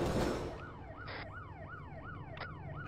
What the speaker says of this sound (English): Can I possibly get that siren turned off?